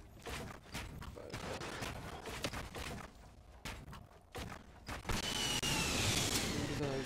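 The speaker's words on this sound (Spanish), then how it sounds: "Empiezan a disparar." Gunfire erupts in a Fortnite duos-versus-squad match, with rapid bursts of shots in quick succession, loud and close, mixed with mechanical clatter and whooshes, growing into a denser, hissing barrage toward the end.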